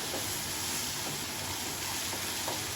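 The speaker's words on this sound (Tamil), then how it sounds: "தக்காளியோட பச்சை வாசனை போகிற வரைக்கும் கொஞ்சம் நல்லா வதக்கிக்கோங்க" Ground ripe tomato sautéing in a pan for Karaikudi spicy chutney, a steady soft sizzle and frying hiss that runs evenly throughout, close and fairly quiet with faint stirring.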